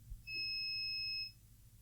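A steady electronic beep, like a smoke alarm chirp, sounds in a quiet room: one sustained two-tone tone lasting about a second over a low background hum, with no talk.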